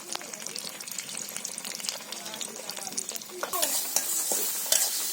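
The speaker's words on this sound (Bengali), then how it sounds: "মশলাটা একটু ভেজে নিই।" Ground spice paste fries in oil with green chilies in a village kitchen, with a soft steady sizzle and stirring that grows louder and hissier near the end, while a voice speaks faintly.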